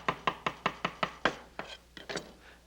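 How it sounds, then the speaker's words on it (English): A knife chops food finely by hand on a board, held in both hands and rocked back and forth, giving about a dozen crisp, close, evenly spaced strokes that loosen toward the end, with no talk. "take it in both hands and chop back and forth"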